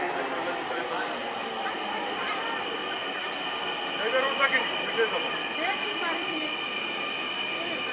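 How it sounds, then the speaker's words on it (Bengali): A metro rail train draws into the station with a sustained, even rumble and a rising hum, while people speak close by over the noise. "এই এখন ট্রেন আসছে, মেট্রো রেল আসছে"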